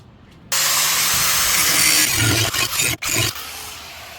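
Steel channel is beveled with a power grinder before welding, a loud, harsh continuous whine close by that starts abruptly, then wavers and briefly cuts out as the tool is lifted.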